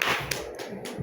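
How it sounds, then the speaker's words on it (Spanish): Brief clapping from an audience at the close of a Spanish-language talk on beer and quantum physics, a short burst of a few sharp, nearby hand claps and taps lasting about a second, with no voices. "aplauso, por favor."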